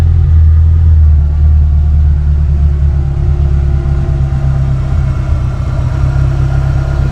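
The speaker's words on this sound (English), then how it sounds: "It's got a dodgy sports exhaust." A Renault Clio 172 idles with a faulty sports exhaust, a loud, steady low rumble droning close by for the whole stretch with little change in pitch.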